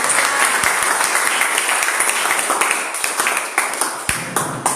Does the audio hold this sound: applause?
yes